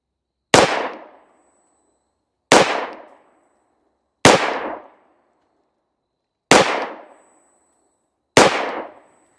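Five loud, sharp gunshots ring out at even intervals of about two seconds from a Ruger LC Charger chambered in 5.7x28 with a threaded barrel, firing Hornady Critical Defense ammo. Each crack is followed by a brief decaying ring.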